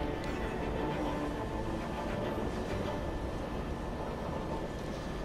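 A passing train in the driving game ACS, The Last Majahara, a steady, loud rumbling roar that fills the whole stretch evenly without letup, with no talk over it.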